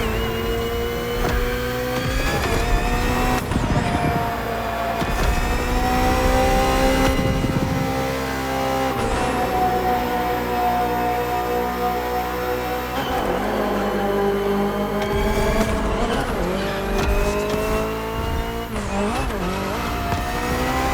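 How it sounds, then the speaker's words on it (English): A BMW M Hybrid V8 endurance race car in The Crew Motorfest howls through repeated upshifts and downshifts, its engine revving hard and loud throughout with brief tire squeals. "Finally, the BMW M Hybrid V8. What a beast."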